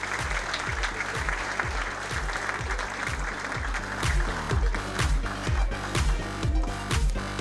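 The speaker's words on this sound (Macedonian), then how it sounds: "ве молам уште еден аплауз за најдобрите во училишниот спорт за 2016 година" An indoor audience claps for the year's best school athletes at a sports award ceremony, a sustained burst of crowd applause that holds steady throughout and swells slightly toward the end.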